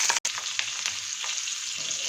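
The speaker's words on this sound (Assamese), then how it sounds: "তেলখিনি গৰম হৈ গৈছে, এতিয়া মই পিঁয়াজ দিছোঁ" Onions and green chillies drop into hot oil and fry with a loud, steady close sizzle, briefly broken near the start and continuing evenly with soft stirring.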